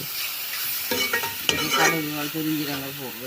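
Garlic dropped into a hot pan and stirred, with a steady frying sizzle and clattering stir strokes close up, no voices.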